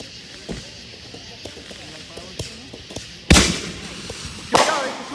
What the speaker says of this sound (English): 1-inch firework.